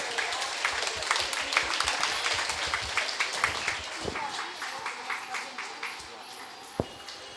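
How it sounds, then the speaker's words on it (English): An audience at a Bhajan Samaj Ramanavami celebration award ceremony gives a round of applause, scattered claps thinning out over several seconds as a voice comes in near the end. "a round of applause especially for Hari"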